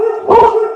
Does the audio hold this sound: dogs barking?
yes